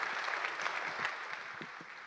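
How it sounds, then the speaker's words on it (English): Audience applause fills the hall at a global financial leaders' investment summit, a dense, steady wash of many hands clapping at moderate distance, continuous throughout with no voices over it. "let's give them a big round of applause"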